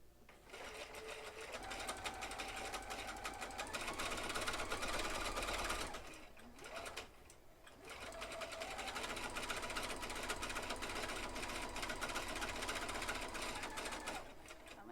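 An electric sewing machine runs in long steady bursts while stitching a quilt hourglass block, with a brief pause near the middle before it resumes its fast, even whirring and needle clatter.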